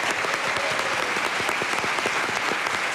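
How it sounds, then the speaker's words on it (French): A television studio audience gives steady, dense applause that keeps going throughout, with no voices standing out over the clapping. "je vous demande d'applaudir bien fort"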